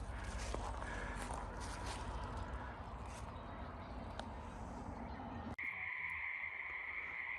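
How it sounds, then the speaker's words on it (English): Pacific tree frogs call in a steady chorus from a distance at a pond, with rhythmic croaks over a low rumble, then a sudden cut to a clearer, higher nighttime trilling. "Hyla regilla. And we can hear them in the distance."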